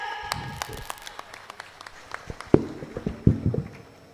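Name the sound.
applause for speaker Khushboo Rathore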